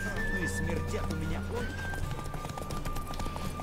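Galloping horse in a race in the video game Witcher 3, with steady hoof clatter and an occasional whinny under constant music and voices, loud and continuous.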